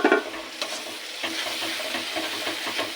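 Ground spices with salt, chili, cumin, coriander and turmeric stir-fried in a pan with spice paste for potato and egg curry, a steady close sizzle broken by scraping stirs and a few sharp knocks.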